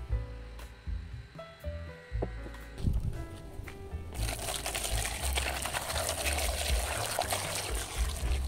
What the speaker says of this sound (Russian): Теперь я снимаю их с огня, сливаю горячую воду и заливаю холодной.